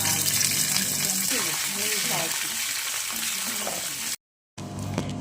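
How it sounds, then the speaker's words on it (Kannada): Cloves, garlic and curry leaves fry in a pan with steady, close sizzling and bubbling and some stirring, with a voice speaking quietly underneath. The sound cuts out briefly near the end, then returns. "ಎರಡು ಲವಂಗ ಸ್ವಲ್ಪ ಬೆಳ್ಳುಳ್ಳಿ ಹಾಕಿ ಎಲ್ಲವನ್ನು ಹಾಕಿ ಫ್ರೈ ಮಾಡುವ ಒಂಚೂರು ಕರಿಬೇವು ಹಾಕ್ತಾ ಇದ್ದೇನೆ"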